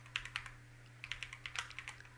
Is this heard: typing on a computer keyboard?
yes